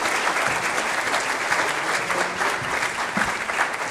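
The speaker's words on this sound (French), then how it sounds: "Applaudissez-la comme des bêtes, elle sera heureuse." An audience at a French business awards evening claps continuously, dense and steady applause from a large crowd filling the whole moment.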